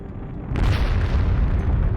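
A fuel storage tank explosion at the CAPECO terminal arrives as a sudden deep boom after a brief lull, followed by a sustained low rumbling roar that does not die away.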